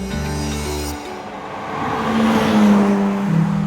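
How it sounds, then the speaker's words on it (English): Fully rebuilt straight-six in a custom Jaguar E-Type Speedster, fed by three carburettors on new headers: a smooth, steady exhaust note with a throaty hum at first, then swelling louder and rougher as the revs climb, close by and without talk. "The engine in this car is their straight six. It's been fully rebuilt. It's just a smooth blat right out of the tailpipe."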